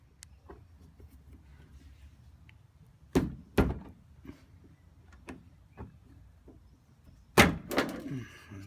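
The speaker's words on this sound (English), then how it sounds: "So just snap the top off with the chisel." A chisel snaps the top off a soft plastic part with a few sharp cracks and knocks, quiet handling between them, close up and with no talk.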